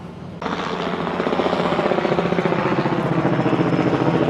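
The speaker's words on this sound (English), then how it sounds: "I hear choppers all day since I've been here." A helicopter's rotor thumps in a rapid, steady beat, building in loudness as it comes close and passes overhead at a resort, with no talking.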